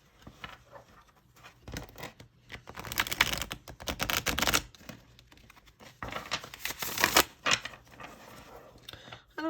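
Crisp, rapid riffling and flicking of a second-edition tarot deck comes in several bursts close to the listener, with quiet pauses in between.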